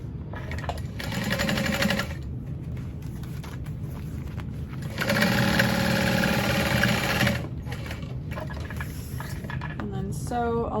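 A sewing machine stitches along the sides of a pocket on a mini backpack, running in bursts of steady motor whir with a louder stretch in the middle, close and continuous with short pauses between runs.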